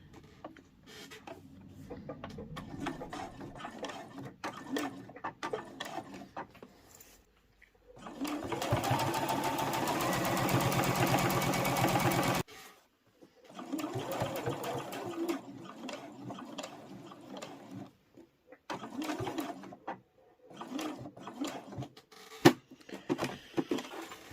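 A sewing machine stitches around a fabric lanyard in short bursts of rapid mechanical chatter, with one longer steady run in the middle, close by and quiet, separated by pauses.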